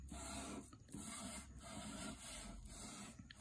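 Cheesecloth soaked in glair medium mixture rubbed over an oil portrait painting, a steady close scrubbing and rasping with rhythmic strokes and brief pauses, no talk.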